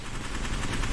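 Rapid gunfire in the Apex Legends battle royale, a dense continuous rattle of shots at steady loudness with no talk, filling the short moment.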